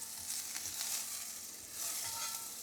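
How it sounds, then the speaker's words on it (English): Butter melting in a hot cast iron skillet gives off a soft, steady sizzle, a faint airy hiss with light crackles that swells slightly toward the end. "let's go ahead and add the butter"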